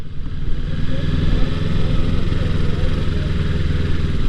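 A motorcycle carrying two riders, its engine a steady low rumble with a pulsing throb, close and continuous while riding along, with no clear speech.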